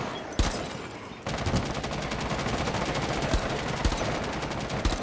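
Rapid bursts of gunfire from Rainbow Six Siege Outbreak shoot up destructible objects such as flamingo decorations, a dense, loud, steady rattle of automatic shots with a few sharper single cracks, and no talking.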